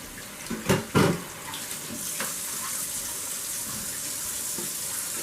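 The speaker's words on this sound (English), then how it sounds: "I actually know exactly what my water temperature is coming out of the faucet" Water runs steadily from a home faucet in a mead-making setup, a soft continuous hiss after a couple of brief clunks and handling noises at the start.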